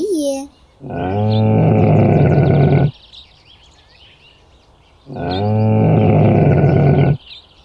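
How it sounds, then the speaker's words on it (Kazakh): A camel lets out two long, loud, guttural groaning roars close by, each lasting about two seconds, with a short pause between them. "Бұл түйе."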